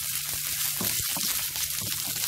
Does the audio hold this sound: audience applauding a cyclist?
no